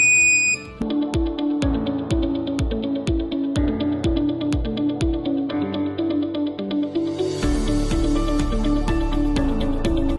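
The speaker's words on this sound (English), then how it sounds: "we will take the magnet detector near to it and we can hear the beep" A magnet detector held near a graphene sanitary pad gives a rapid run of electronic beeps, pulsing evenly, then shifting to a denser, steady tone toward the end, with no talking.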